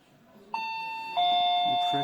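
A two-tone electronic doorbell chime from an OS359FA face ID fingerprint smart lock rings clearly, a higher note followed by a lower one that sustains, with faint talking underneath.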